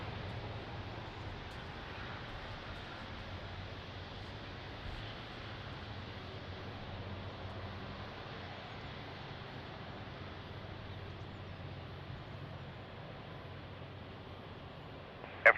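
Airliner engines roar steadily during a takeoff roll at Lisbon Airport in rain and wind, a broad continuous rumble holding at moderate distance with no voices.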